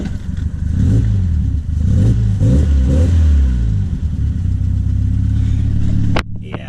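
A Triumph Spitfire engine idling slightly high after intake and exhaust leaks were fixed, a close, loud, steady mechanical rumble with slight wavering pitch, cutting off abruptly near the end.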